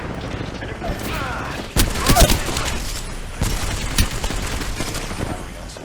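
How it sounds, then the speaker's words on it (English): Gunfire rattles through a match of the video game Apex Legends, loud bursts of automatic shots and impacts over a busy game soundscape, with voices speaking now and then. "Taking fire!"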